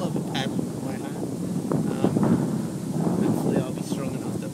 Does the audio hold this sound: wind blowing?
yes